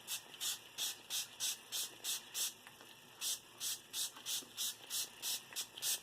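A small pump sprayer mists Mini Mustachery shaving product: a rapid run of short hissing spritzes, then a pause and another rhythmic burst of about nine sprays, close and fairly faint.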